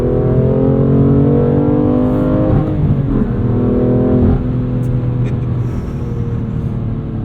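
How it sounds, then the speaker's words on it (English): A 2021 BMW M2 Competition with a six-speed manual gives a loud, close exhaust drone as it accelerates, pitch climbing steadily, briefly dipping around a gear change, then pulling upward again. "Boy, this exhaust."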